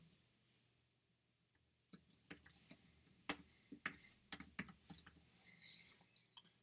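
Bursts of quick key presses on a computer keyboard, close and fairly quiet, starting after a short near-silent pause and continuing in irregular clusters with no talking.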